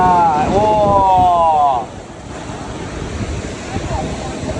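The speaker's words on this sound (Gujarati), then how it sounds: "મોજા આવે છે જોરદાર." Big sea waves surge and crash at Colva beach in Goa, a steady, loud roar of surf mixed with wind buffeting the microphone, and a brief voice-like tone near the start.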